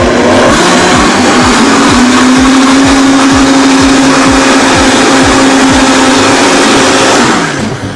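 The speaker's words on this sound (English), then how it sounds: "turn your blender on" A blender motor whirs loudly and steadily with a rhythmic thumping churn underneath as olive oil is poured in, running nonstop before winding down at the end.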